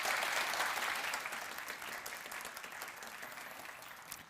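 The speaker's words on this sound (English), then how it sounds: "with huge warm applause to Salla Hiiskoski" An audience applauds at a game industry event, dense clapping that starts loud and gradually thins and fades over a few seconds.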